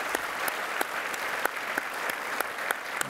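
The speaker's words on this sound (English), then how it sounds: "Let's give Michael a round of applause here." Conference audience at an interview session with Michael Dell claps in a steady, even round of applause, moderately distant, with no voices over it.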